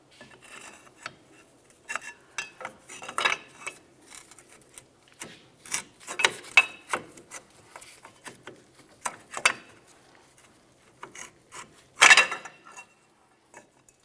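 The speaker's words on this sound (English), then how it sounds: "Now it's time to reinstall our parking brake shoe." Metal parking brake shoe for a Chevrolet Tahoe being fitted back into place, giving scattered scraping, rubbing and light clinking of metal parts, close and fairly quiet, with a sharper clank near the end.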